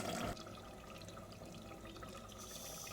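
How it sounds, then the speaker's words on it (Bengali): Hot water is poured into a pan of spicy village-style duck meat bhuna, making a short, soft, steady splashing rush of liquid with no talk. "এবার আমি গরম জল অ্যাড করব"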